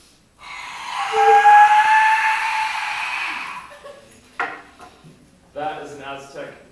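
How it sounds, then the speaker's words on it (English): An Aztec death whistle is blown once, giving a loud, harsh, shrieking hiss that lasts about three seconds before fading, followed by people reacting and talking. "That is an Aztec death whistle."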